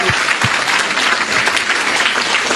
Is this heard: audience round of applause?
yes